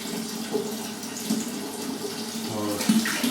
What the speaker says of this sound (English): I'm just putting cold water in